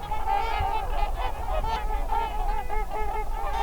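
A flock of trumpeter swans honks without a break, many overlapping brassy calls at close to middle distance, with a steady outdoor rumble underneath and no voices.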